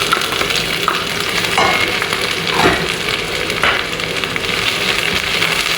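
Garlic fries in a hot pan, a steady close sizzle broken by a few scraping stirs, with no talking.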